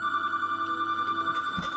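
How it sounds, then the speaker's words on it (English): A telephone in a movie theater rings continuously, a loud, steady electronic trill that fills the whole stretch with no one speaking. "Then the phone rang again"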